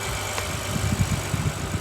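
A 2021 Acura TLX Type S with its V6 turbo engine idles in a short, steady low rumble with slight pulsing, close and alone.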